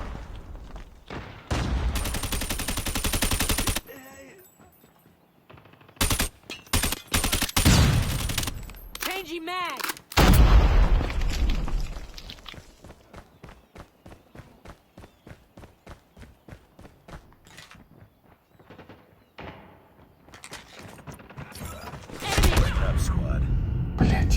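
Bursts of small-arms and SMG fire from Call of Duty Mobile, loud volleys at the start and end with sparse shots and scuffling between, under a player's voice.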